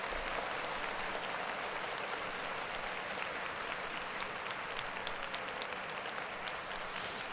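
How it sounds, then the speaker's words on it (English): Steady, dense applause from a crowd, loud and continuous for several seconds with no pauses, the broad hiss of many hands clapping at once. "Clap it up for him one more time."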